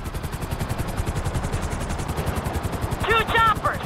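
In Grand Theft Auto V, helicopter rotors beat rapidly and steadily while bursts of gunfire crack over them, loud and close, with a brief shouted voice near the end.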